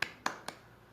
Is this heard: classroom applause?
yes